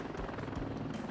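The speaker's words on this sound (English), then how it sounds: "A scout helicopter with Tau missiles is so great." Scout helicopter armed with Tau missiles in the video game Heliborne, a continuous, loud rotor drone with steady thumping, heard alone.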